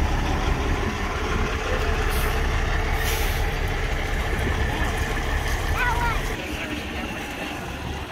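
A big rig pulls out at a classic truck show, its engine grinding in a loud, steady, low drone with a sharp hiss of air brakes early on, set against outdoor wind and crowd noise.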